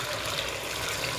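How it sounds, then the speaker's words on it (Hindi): Water is poured over washed raw mangoes, still in their skins, to boil them for kachi keri sharbat. It makes a steady, close splashing trickle throughout, with no talking. "अब मैं इसमें पानी शामिल करूँगी"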